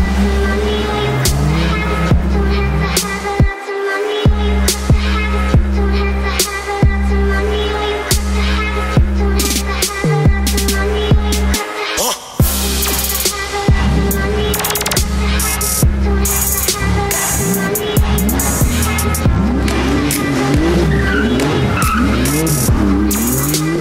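A Bentley Continental GT with its W12 engine roars loudly, the revs surging and dropping again and again over some twenty seconds, with sharp tire squeal and skidding mixed in and no talk.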